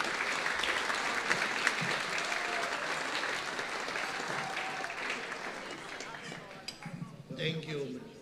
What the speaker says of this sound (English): A big round of applause for Frank Rolngan